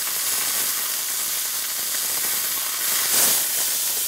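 Pot roast beef browning in a hot pan gives a continuous loud hissing sizzle, close and unbroken, swelling briefly near the end with a sharper burst of spatter.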